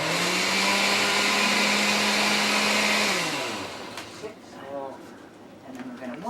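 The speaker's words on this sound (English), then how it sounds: "With your hand blender, I think you will want to hold the lid with one hand, crank it with the other." A hand-cranked blender in outdoor solar cooking whirs with a steady tone for about three seconds, then winds down and stops, leaving faint background sounds and brief bird-like chirps.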